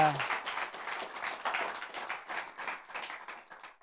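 Audience members at a talk show applaud for Anne, a sustained close wash of clapping that gradually thins toward the end.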